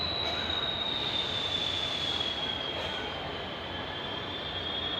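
Koyna Express train on the Mumbai to Kolhapur run, a steady loud rumble of wheels on rails with a sustained high metallic wheel squeal riding over it, heard up close from on board.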